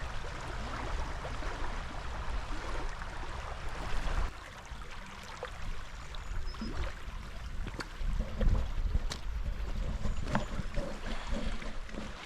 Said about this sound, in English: That water lapping away at the shore doesn't get old for me.